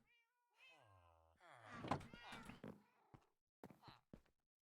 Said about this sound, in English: This cat's about to fucking open the door.